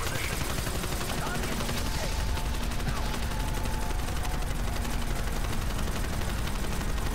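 Dense, continuous gunfire rattles against zombies in a Call of Duty–style Firebase Z shooter, loud and unbroken machine-gun bursts filling the whole stretch, with voices faintly mixed in.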